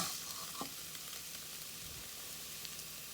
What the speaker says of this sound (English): now to that we're going to add about a half a tablespoon of butter. We're going to let that butter melt.